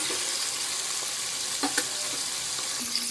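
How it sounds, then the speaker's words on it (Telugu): Dried red chillies fry in hot oil for sambar, giving a steady close sizzle with a few soft pops and stirring scrapes, with no talking. "మనకి ఇక్కడ ఎండుమిర్చి కూడా ఫ్రై అయిపోయిందండి"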